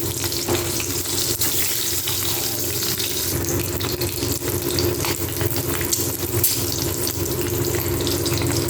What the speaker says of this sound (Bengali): এবার ডিমগুলো ভেজে নেব একটু পরিমাণ তেল দিয়ে।